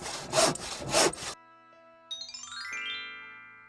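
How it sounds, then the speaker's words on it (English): A hand saw cuts through wood in two loud, rasping back-and-forth strokes, followed by a brief cartoonish chiming jingle. "This tool is a saw. This is the sound a saw makes."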